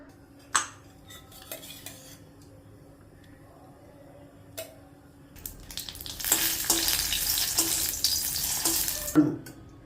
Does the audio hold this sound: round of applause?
no